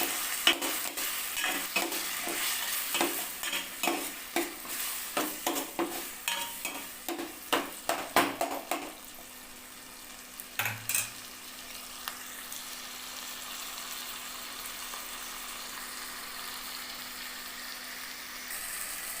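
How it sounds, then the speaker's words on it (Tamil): Green chillies and ginger garlic paste sautéing in a pan, with a run of quick rhythmic spoon scrapes over a constant frying sizzle, then the stirring stops and a steady hiss carries on alone, close up. "ஒரு மூணு பச்சை மிளகாவும் போட்டிருக்கேன் இப்போ இஞ்சி பூண்டு பேஸ்ட்டும் போட்டிருக்கேன் ஸோ இன்னும் கொஞ்சம் வாயில் நல்லா வதக்கணும்"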